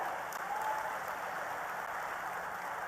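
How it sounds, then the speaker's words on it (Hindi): Steady, dense applause from a large crowd at an outdoor government ceremony in Harda greeting the Prime Minister, an even wash of clapping at moderate level with no voices over it. "जोरदार ताली बजाकर प्रधानमंत्री जी का अभिनंदन करें।"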